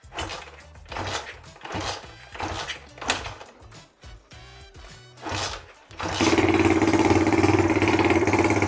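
A 20 HP Honda Chaly motorcycle engine is cranked in several loud bursts that sputter and cut out, then catches and runs steadily at a loud, even idle, close by with no talking.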